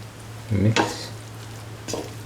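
Cauliflower, bottle gourd and rice being mixed in a cooking pot: a couple of close scraping stirs against the pot over a low steady background hum, with no talking.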